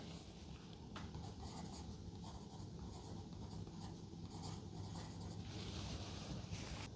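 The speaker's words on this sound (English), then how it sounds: "On the backstory insert, write the name of the backstory in the top space." A pen writes the backstory name onto a cardboard insert for the Roll Player Adventures board game, a faint, steady scratching and rubbing that continues quietly throughout.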